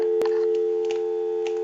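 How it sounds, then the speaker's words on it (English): A steady, continuous dial tone from a Northern Electric 233 payphone converted after repair, loud and unbroken, with a brief click near the start. "We'll go ahead and give you some dial tone"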